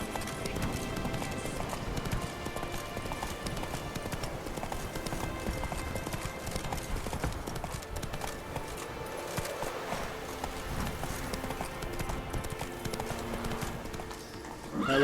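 A horse gallops in The Witcher 3 near a Nilfgaardian checkpoint, its hooves drumming in a steady, continuous rhythm under dense game music and ambience for the whole stretch.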